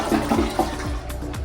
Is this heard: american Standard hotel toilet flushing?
yes